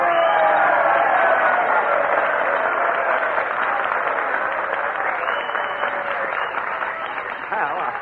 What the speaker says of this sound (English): with a little encouragement and applause, we can get Jack Benny to come up here